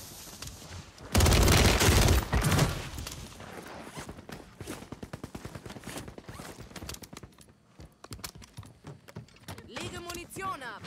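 Gunfire in Call of Duty Warzone: a loud, dense burst of rapid shots near the start, then quicker, lighter volleys and clicks that continue to the end, with voices talking over the action.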